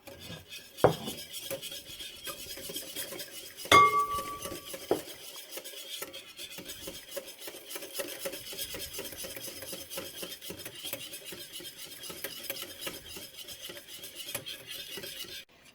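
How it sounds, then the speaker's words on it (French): Egg yolk, mustard and oil whisked together in a bowl into mayonnaise, a continuous quiet scraping and swishing stir with a couple of sharper clinks of the whisk against the bowl. "nous avons notre jaune d'œuf, notre moutarde, nous mélangeons et nous rajoutons de l'huile au fur et à mesure"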